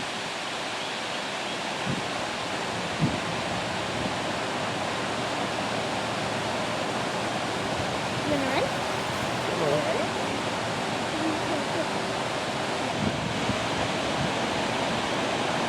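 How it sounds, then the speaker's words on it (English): Steady broadband rush of a river flowing near a town with pickleball courts, continuous and fairly loud throughout, with faint brief background sounds over it. "The river looks pretty."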